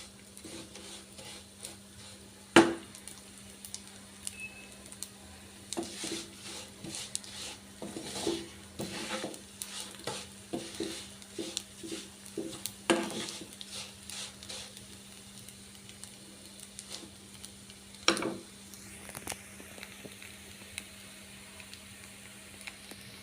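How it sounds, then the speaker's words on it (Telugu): A spoon stirs and scrapes vermicelli roasting in ghee in a pan for semiya payasam, with uneven clinks and scrapes over a faint steady sizzle and no talking. "సో ఇదంతా ఇలా గోల్డెన్ బ్రౌన్ వచ్చేంత వరకు ఇలా మిక్స్ చేద్దాం."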